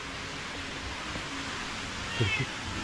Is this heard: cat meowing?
yes